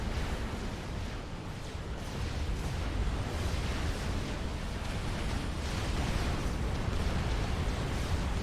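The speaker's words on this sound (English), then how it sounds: "Alright, units firing into each other." Massed units trading fire in the real-time strategy game Supreme Commander, a dense, continuous wash of booming blasts and explosions that rumble together without clear breaks.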